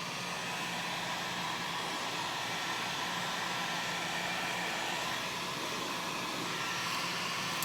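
A blow dryer runs nonstop to dry paint on a ceramic pumpkin, a loud, steady rushing whoosh held at an even level throughout, with no talking.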